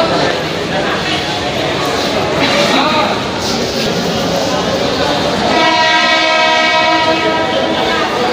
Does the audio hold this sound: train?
yes